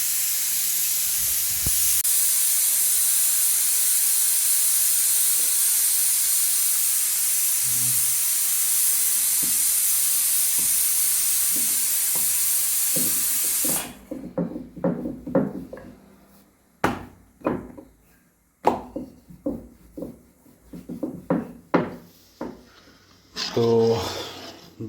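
A pressure cooker cooking rice gives off a loud, steady hiss of steam for about fourteen seconds, then stops abruptly, followed by scattered kitchen clatter and knocks.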